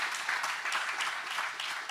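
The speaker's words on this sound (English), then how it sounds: "Please, round of applause for Ben Ark." Audience applause at a Nostr open-source conference, a dense, steady patter of clapping from a crowd that holds at an even level throughout, with no voices over it.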